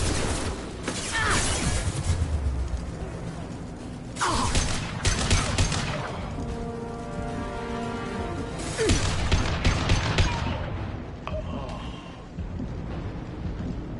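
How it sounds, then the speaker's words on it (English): Blue Suns mercenaries and Vorcha trade gunfire in Mass Effect 2, with bursts of shots, crashes and mechanical clatter over a steady rumbling backdrop, loud and continuous, with faint talk beneath. "Blue Suns and Vorcha shooting anything that moves."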